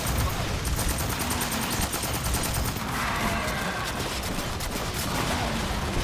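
Dense gunfire in Aliens Fireteam Elite, a continuous rattling fusillade of automatic weapons with loud, layered shots sustained throughout, amid busy combat noise.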